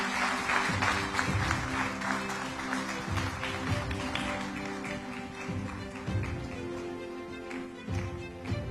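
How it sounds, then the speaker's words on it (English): An audience at an awards ceremony honouring community heroes breaks into sustained applause, dense clapping from a crowd that carries on steadily and loudly throughout. "A big round of applause for him."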